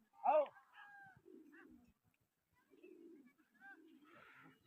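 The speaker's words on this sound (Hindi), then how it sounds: "वो कबूतर उड़ रहा संगा दे पर नहीं पकड़ी रहा" Pigeons cooing during a pigeon flying competition, soft low coos in short separate bursts, with a brief higher call at the start and a few chirps, fairly close and quiet.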